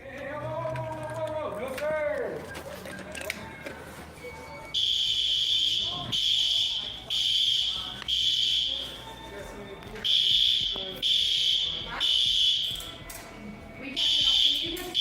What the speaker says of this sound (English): he eventually pulled the fire alarm